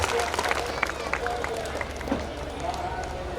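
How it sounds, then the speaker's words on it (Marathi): An audience at a kirtan gathering claps loudly and continuously for saints arriving on the stage, a dense wash of applause with crowd murmur mixed in. "व्यासपीठावरती जी महात्मा मंडळी येत आहेत त्यांच्यासाठी एकदा जोरात टाळी वाजवा."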